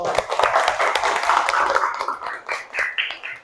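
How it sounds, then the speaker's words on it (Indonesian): A classroom of pupils clapping together, a busy, fairly loud patter of many small hands that drifts into scattered, fading claps toward the end. "beri tepuk tangan dulu"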